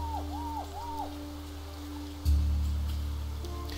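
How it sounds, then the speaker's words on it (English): Rain falls in the video game Niche as a steady wash of noise under soft tonal game sounds, with a deeper rumble swelling in partway through. "That rain can't be good for business."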